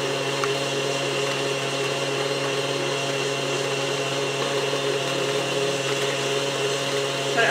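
An electric mixer beats cream cheese frosting with powdered sugar for a carrot cake, a steady loud motor whir running without a break and close by.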